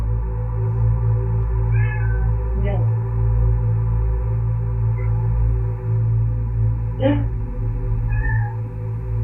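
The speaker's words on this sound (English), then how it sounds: "cat is freaking out" A distressed cat meowing indoors, several drawn-out, strained cries spaced apart over a loud low hum, with someone speaking softly in between.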